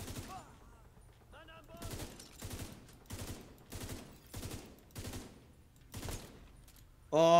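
Deployed turret in The Division 2 firing repeated bursts of automatic gunfire, about six evenly spaced volleys at moderate loudness, with a louder burst at the end.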